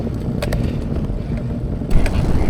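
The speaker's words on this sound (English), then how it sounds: "I think there is a slight wind at my back now" Broadband wind rushes and buffets the microphone while riding a Cruzbike Q45 recumbent bicycle on the road, a steady noisy roar with a few brief gusty bursts.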